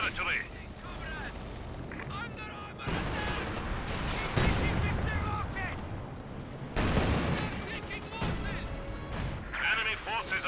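MG34 machine gun fire in the strategy game Company of Heroes 2, bursts of gunfire and crashing impacts under ongoing battle noise, with a voice talking throughout.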